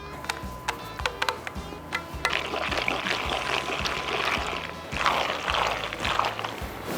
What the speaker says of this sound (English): pour this cheese sauce out of my Yeti pan here, right over the noodles